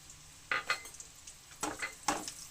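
Vegetables such as carrot and potato going into hot oil in a pan for fried rice, with sizzling bursts and stirring scrapes in several quick surges, close and without talk.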